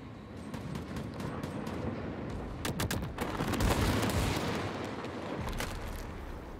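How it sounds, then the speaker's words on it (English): Bombs in the video game World War 3 go off in a rapid series of sharp blasts and crackling bursts, loudest near the middle, over a continuous rumbling battlefield din, with no talking. "I'm just gonna drop bombs."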